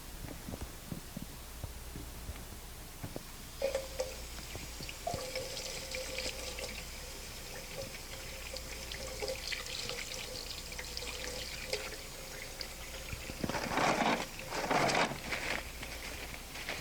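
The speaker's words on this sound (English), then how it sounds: "I'm going to wash my hands." A tap runs steadily in a nursing health assessment exam room as hands are washed, a continuous hiss lasting about ten seconds, growing briefly louder and splashier near the end before stopping.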